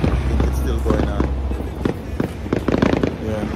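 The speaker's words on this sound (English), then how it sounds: "Fireworks is going on for over 10 minutes now." Fireworks go off over a waterfront in Jamaica, a steady stream of crackling bursts and pops heard from some distance, while a person talks over the display.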